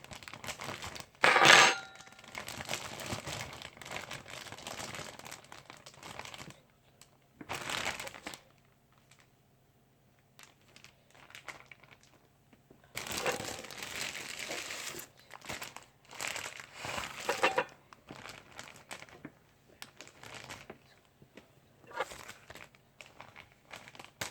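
A plastic bag holding a frog from a pet shop is opened and handled, giving irregular bursts of crinkling and rustling with quiet gaps between, close by and fairly soft.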